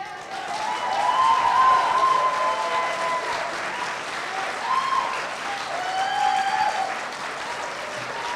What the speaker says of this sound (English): one last round of applause for Ms. Keith and Ms. Baer